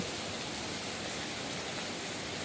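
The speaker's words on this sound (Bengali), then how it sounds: "এত বৃষ্টি যে পানির স্রোত বয়ে চলেছে" Heavy, steady rain with big drops pours down while runoff water streams along, a dense, unbroken wash of noise that holds at an even level throughout.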